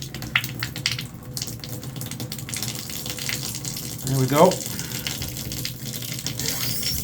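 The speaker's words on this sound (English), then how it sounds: "now we're going to run bathtub water" Bathtub tap running water in a river house being winterized, a steady splashing gush that swells briefly midway, with a person speaking briefly over it.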